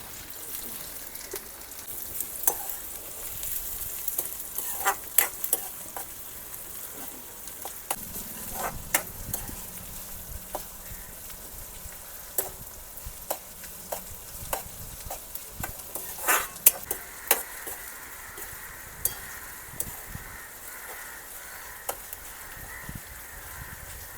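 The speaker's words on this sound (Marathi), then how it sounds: "गरम गरम तेलामध्ये मस्तपैकी कांदा टाकला आपण आणि वरून घालून घेतोय ते म्हणजे टॉमॅटो" Onion and tomato sizzle in hot oil in a home kitchen, with a steady frying hiss and repeated scraping stirs of a spoon against the pan, close and continuous throughout.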